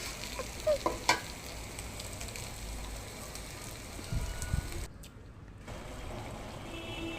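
Hot water hits rice frying in oil for beef tehari, and a loud, steady sizzle and hiss follows. Near the end it cuts out briefly, then resumes. No one speaks.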